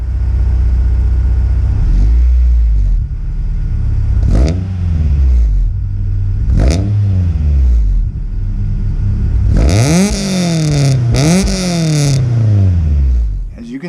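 A Honda CR-V RD1 with a Yonaka exhaust revs up close and loud. Quick throttle blips come roughly every two seconds, then two longer, harder revs rise and fall with a raspy, crackly edge over the idle.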